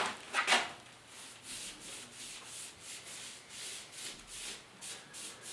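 A rag wipes finish off a plywood bookshelf in repeated soft rubbing strokes, a quiet rhythmic swishing with a louder scrub near the start.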